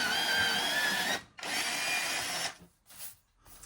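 An electric pencil sharpener grinds a colored pencil in two close, steady whirring bursts of about a second each, followed by a couple of shorter, fainter spurts.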